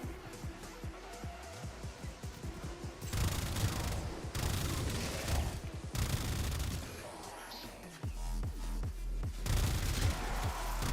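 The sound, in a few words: gunfire from a weapon in a video game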